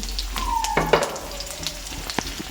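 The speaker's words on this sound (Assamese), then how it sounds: "তেলতে মই কাটি থোৱা পিঁয়াজ জলকীয়া দি দিলোঁ।" Chopped onion and green chilli hit hot refined oil for a Maggi recipe. A short burst of close frying crackle and sizzle is heard, with a few sharper pops and no voices.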